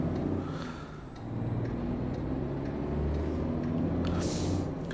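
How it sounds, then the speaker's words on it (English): Rumbling engine of an old Mack truck in American Truck Simulator, a steady loud low drone with faint hissing accents, running alone without talk. "So yeah, this truck is a little loud, just a little bit. But man, does it sound good."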